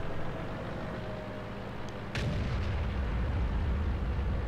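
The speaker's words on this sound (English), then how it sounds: "Alright, at ammo rack explosion. Looks very sparky." A tank's ammo rack explodes in World of Tanks, with a sudden deep boom about midway through that gives way to a heavier, sustained rumble afterward, over steady engine-like background noise.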